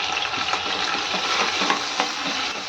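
Ground coconut masala paste is stirred and sautéed in a pan, giving a continuous close sizzle and fry with scraping stir strokes. No talk is heard over it.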